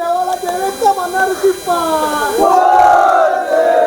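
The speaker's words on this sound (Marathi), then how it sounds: "हा जल्लोष आपल्याला पाहायला मिळतोय बघा." A crowd shouts and cheers at Dhulivandan festival celebrations in Shrivardhan, with overlapping voices calling out in rising, sustained bursts that stay close and loud throughout.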